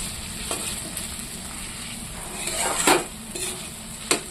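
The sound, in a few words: stirring and frying kochu (taro) in a pan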